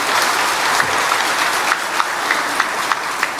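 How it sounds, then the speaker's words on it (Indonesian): Indoor audience applause honoring an official at an Indonesian governmental ceremony, dense steady clapping throughout with a few sharper individual claps standing out. "Tepuk tangan untuk beliau."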